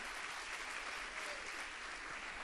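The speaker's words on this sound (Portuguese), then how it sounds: "Isso, pode aplaudir bem forte." Congregation applause at a church worship program: continuous, uniform clapping from a crowd, heard at a distance and fairly quiet, steady for the whole stretch without speech.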